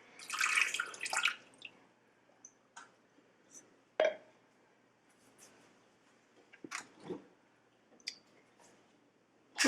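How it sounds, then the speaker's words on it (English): Cold water is poured into a Ninja Foodi pot for chicken fried rice with a short splashing rush at the start. Scattered drips, clinks and soft handling noises follow, close by and without talk. "I'm going to go ahead and add 1 3/4 cups of cold water."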